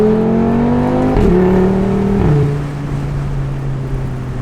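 A tuned Audi RS3 revs hard, its engine note stepping up and dropping through gear changes, loud and close, then settling to a steady drone with no talking.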